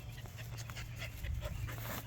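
A dog whimpers and pants close by outdoors, soft rapid breaths and faint whines over a low rumble.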